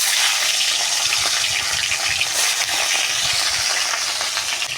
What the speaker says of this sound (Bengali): এখন মাছের মাথাগুলো ভেজে নেব।